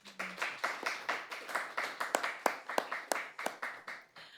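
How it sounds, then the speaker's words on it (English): A modest debate audience claps for the student debaters at a semifinal round, a thin run of evenly paced, distinct claps from a small group, fairly quiet and steady throughout. "Let's give these students a round of applause."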